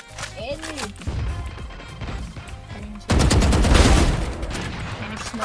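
Gunfire in the Valorant video game: a few sharp shots under talking in the first seconds, then a louder, denser burst of shooting from about three seconds on, with a voice continuing over it.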